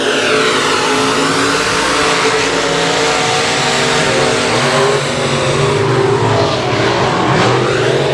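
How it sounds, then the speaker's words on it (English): Limited modified race cars roaring around a dirt speedway, a loud, sustained engine drone with shifting pitch as the pack passes, steady throughout with no clear speech above it. "As they head off in the 3 and off of 4, still with the race leads the K1 of Guidry."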